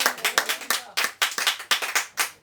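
A church congregation claps in praise during a Portuguese-language worship service, producing loud, close, rhythmic bursts of clapping in quick groups of beats with short pauses between them.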